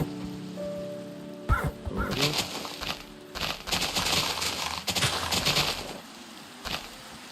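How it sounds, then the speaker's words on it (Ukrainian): Rain in the Minecraft video game starts as a sudden loud burst, then patters in uneven surging gusts, fading in and out with short gaps over a low background tone. "Ой, дощ пішов"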